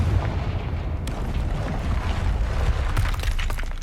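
A Confringo fire spell exploding in Hogwarts Legacy, a deep rumbling blast with heavy low-end roar and crackling debris sustained throughout, loud and close.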